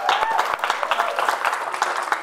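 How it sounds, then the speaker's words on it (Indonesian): A studio audience at a roasting comedy show claps to welcome a celebrity guest, brisk, close clapping with distinct individual hand strikes and some cheering mixed in. "Tepuk tangan dong."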